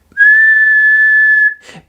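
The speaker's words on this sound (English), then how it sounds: "Madame Gazelle blew her whistle." A single sustained referee-style whistle blast, loud and steady for over a second, cut off sharply, followed by a faint rustle; sounded in a read-aloud Peppa Pig children's story about a sports day.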